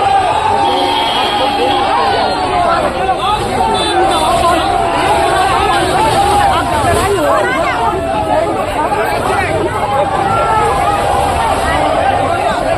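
A large crowd of students from a student union gathered at a public hearing fills the air with dense, loud, continuous chatter and overlapping voices that never let up.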